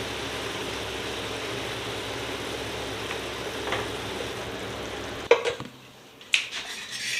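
Manchurian balls drop into sizzling chili sauce in a pan. A steady frying hiss runs throughout, then cuts off abruptly, followed by a few close clinks and scrapes of a utensil against the pan.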